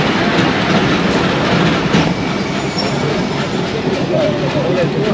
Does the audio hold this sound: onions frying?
no